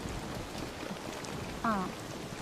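Heavy rain pours down as a steady, dense hiss that fills the whole stretch, with a brief tonal sound rising out of it near the end.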